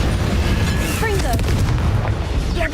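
Confringo blast spell explosions in the video game Hogwarts Legacy, booming bursts over a steady rumbling game soundscape with whooshing spell effects, loud and close.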